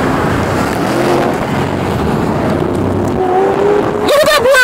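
A Lamborghini Aventador LP700-4 revs and downshifts, its loud engine roaring steadily with shifting pitch, then rising in a sharp rev burst at the end, heard close with voices in the background.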